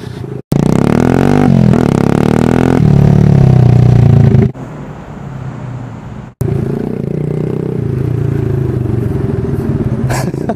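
A Honda motorcycle fitted with an Exos exhaust pipe revs loud and close, its engine rising and falling in several bursts, then settling to a lower idle before revving again.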